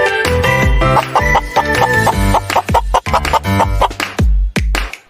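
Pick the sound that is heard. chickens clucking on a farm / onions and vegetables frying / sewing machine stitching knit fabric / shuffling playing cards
chickens clucking on a farm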